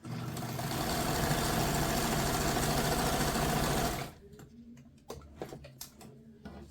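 A sewing machine runs fast and steady while stitching crumb quilt strips, a dense mechanical whir that stops abruptly about two-thirds through, followed by quieter handling clicks and rustles.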